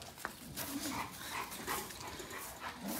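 A dog pants quickly and lets out soft whimpers at close range, a steady breathy rhythm over wet rainy ambience outdoors.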